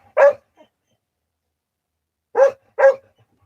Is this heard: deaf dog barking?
yes